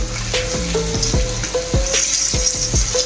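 Silver bar fish fries in a pan with a steady loud sizzle, with repeated metallic scrapes and taps as the pieces are flipped over.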